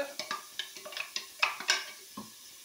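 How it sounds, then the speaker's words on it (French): Chopped onion, mushrooms and carrots tipped into a Cookeo multicooker pot, making a quick series of light clatters, scrapes and soft sizzles, close and fairly quiet, ending in a brief pause. "Nous allons y mettre l'oignon que nous avons haché, les champignons, Les carottes."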